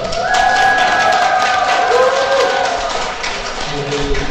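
A Catholic parish congregation raises a loud, sustained cheer, with many voices shouting and whooping together at close range. The cheer swells and then eases off slightly toward the end.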